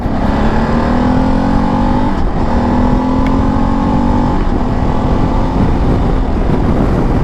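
A Ducati Desert X motorcycle engine pulls hard and loud through the gears, rising in pitch, briefly dropping at each shift, then climbing again, close and continuous.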